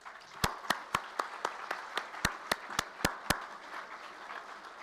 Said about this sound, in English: So a huge round of applause from the graduates to your family, your friends, your teachers, please